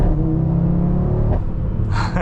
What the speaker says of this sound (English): You got some pops. We got mid pipes and the sport exhaust.